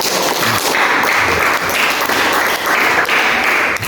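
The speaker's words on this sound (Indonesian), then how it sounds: "Tepuk tangan dulu untuk semuanya" Applause from a class of participants after a lesson on the body's digestive functions in a teacher training session; continuous dense clapping, fairly loud and even, with no speech over it.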